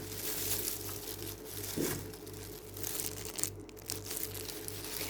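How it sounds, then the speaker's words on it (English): Scissors snipping and crunching through cheesecloth, with crinkly tearing textures over a steady low mechanical hum. "Why is it so hard to cut through this cheesecloth?"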